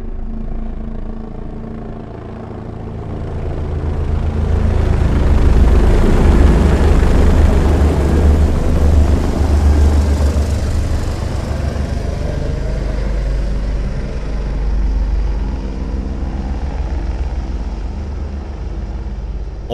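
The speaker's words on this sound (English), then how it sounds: "helicopters will slowly creep up from the back of the theater. Close your eyes and feel them fly overhead." Helicopters fly overhead in an Auro-3D cinema demo, a loud low rotor-and-engine rumble that swells in from the back, peaks overhead and then holds steady without fading away.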